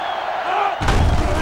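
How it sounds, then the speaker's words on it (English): Stadium crowd in NCAA Football 07, a college football game between Penn State and Ohio State, swelling into a loud roar that jumps sharply partway through and stays dense and heavy, with a muffled thud at the surge. "this crowd is going absolutely insane"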